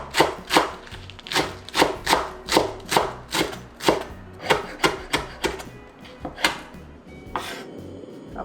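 A knife chops green onion finely on a cutting board in a steady run of about twenty crisp, evenly spaced knocks, close up and with no talking.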